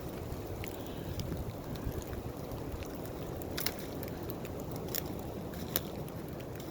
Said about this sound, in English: I don't know if you all can hear that wind, but it sounds like a jet engine.